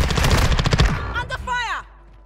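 Rapid automatic gunfire in Call of Duty Warzone 2 rattles off in a loud, close burst, then cuts away as a voice shouts briefly over the fading action.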